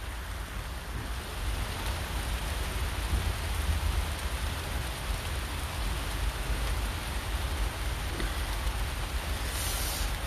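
Steady rain falls beside the Marne, a dense, constant hiss of drops on surfaces that never lets up, close and fairly loud with no voices.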